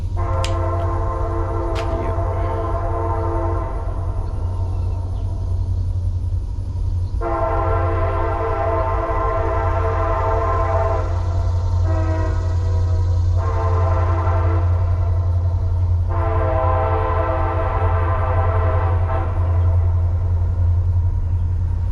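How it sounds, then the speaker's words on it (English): A low, steady rumble of an old train passing on the CSX mainline runs throughout while a loud multi-tone horn blasts in several long and short calls at a crossing. "Here comes a old train down the line."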